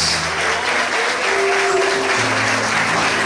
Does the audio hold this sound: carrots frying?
no